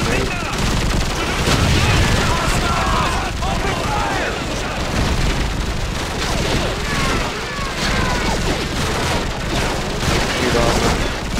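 Dense gunfire and explosions in the video game Call of Duty 4: Modern Warfare, a continuous loud barrage of shots and booms including a grenade blast, with players' voices talking over the battle noise.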